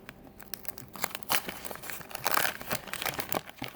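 A foil wrapper on a pack of trading cards from a 1987 set is torn and crumpled open close by, with bursts of crinkling and ripping spread over the whole stretch and no talking.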